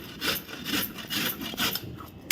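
Indian gooseberries (amla) are rubbed against an ordinary kitchen grater, the kind used for carrots, making a rhythmic series of close, scratchy rasping strokes with short gaps and no voices.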